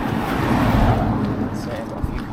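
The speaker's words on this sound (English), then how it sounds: "So I've got a few cars coming now." Several cars pass along a quiet country road, a steady rushing roar of tyres and engines that swells and slowly eases, heard from the roadside.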